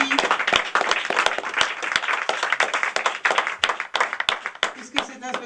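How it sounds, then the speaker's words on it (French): Audience applauding after a live show by ALTO and his friends, steady dense clapping with some crowd voices, loud and sustained throughout. "On les applaudit encore très fort tous les 4 pour ce magnifique spectacle inédit."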